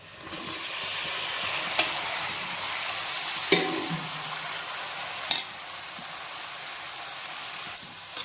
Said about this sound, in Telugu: ఇక్కడ వేగింది ఈ చేపలు కూడా వేగాలి ఉల్లిపాయ కూడా వేగాలి